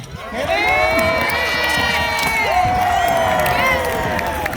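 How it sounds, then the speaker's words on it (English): Spectators cheer and whoop for a knight in the final joust of a jousting tournament, a loud, sustained roar of mixed adult and children's voices that rises quickly and holds steady throughout. "Give him a cheer."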